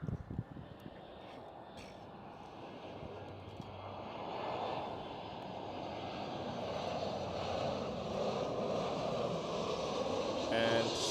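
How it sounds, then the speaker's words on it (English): An EasyJet Airbus A320 airliner at Amsterdam Schiphol, a broad steady engine roar that builds gradually and holds as the plane passes at moderate distance, with faint background noise and no clear talking. "Next one up, EasyJet A320."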